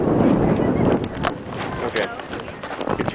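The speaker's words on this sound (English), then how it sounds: "It's really windy" Strong wind buffets the microphone at the Clingmans Dome observation tower, producing heavy low rumbling gusts that ease somewhat after the first second, with people talking over it.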